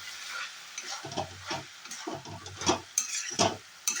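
A spoon stirs moong dal with Kashmiri red chili powder in a pan, making an uneven run of close scraping strokes over a soft sizzle.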